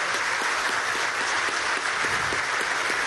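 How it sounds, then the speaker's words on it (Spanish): Dense, steady applause from a large audience at a Venezuelan political rally marking ten years of the Plan Siembra Petrolera, continuous clapping with no voices over it. "un aplauso a este hombre"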